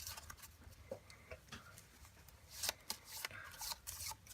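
Cards are shuffled by hand, soft riffling flutters and quick ticking snaps that come in uneven bursts, close up and fairly quiet.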